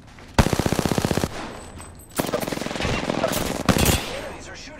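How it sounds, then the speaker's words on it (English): Enemy automatic gunfire in Apex Legends comes in two or three sharp, rapid bursts, loud and close, with brief pauses between volleys. "Enemies are shooting at me."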